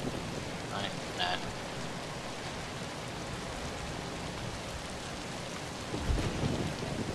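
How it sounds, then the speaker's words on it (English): Rain and thunder in the video game Zombi: a steady hiss of rainfall on surfaces throughout, with a low thunder rumble swelling near the end, no talk. "effects on the rain, at least."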